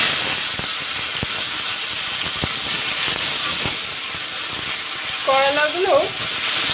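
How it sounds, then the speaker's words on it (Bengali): Bitter gourd frying in hot oil gives a steady, dense hiss and crackle throughout, close and loud, with a few sharp pops and a short tonal squeak near the end. "এবার আমি করলাগুলোও দিয়ে দেব।"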